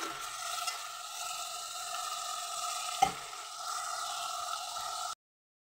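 Goat mutton sautés and sizzles steadily in a hot pan with a constant close frying hiss. A single clunk of stirring lands midway, then the hiss cuts off abruptly near the end.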